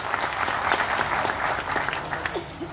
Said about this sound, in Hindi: थैंक यू सो मच, जोरदार तालियां।